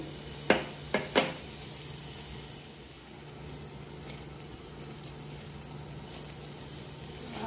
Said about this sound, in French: je fais revenir l'oignon et l'ail